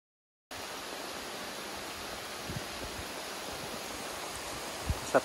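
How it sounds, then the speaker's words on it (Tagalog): Continuous, even rushing noise of steady rain falling on a metal roof, with a couple of faint knocks near the end and no voices. "Sarap naman ang ulan dito."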